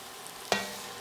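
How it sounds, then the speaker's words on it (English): Garlic hits a pan of softened peppers and onions with a sudden sharp sizzle, then a steady frying hiss that continues after the stir. "And you stir the garlic around"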